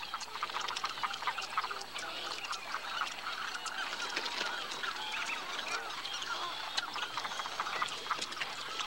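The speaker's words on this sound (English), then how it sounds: "These birds arrive in great numbers, roseate spoonbills, snowy egrets, and great egrets." A large flock of roseate spoonbills, snowy egrets and great egrets in the Pantanal wetlands makes a dense, continuous chorus of croaks, squawks and honking calls, busy and overlapping at moderate distance.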